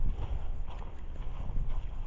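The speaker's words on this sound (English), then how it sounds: "I hear a horse in the background" Horses clip-clopping nearby outdoors at a cemetery, a soft run of hoof beats on the ground with a faint background hush, no voices.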